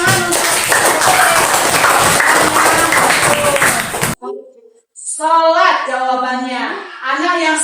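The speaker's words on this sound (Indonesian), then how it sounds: "beri tepuk tangan untuk sholat." Students in a classroom applaud together in a dense, steady burst of clapping for about four seconds, then it stops abruptly and someone speaks alone.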